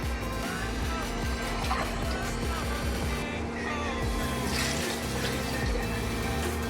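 Water pours steadily into a cooking pot while tomato bath is being made, a continuous close splashing rush with a faint hum underneath and no break throughout.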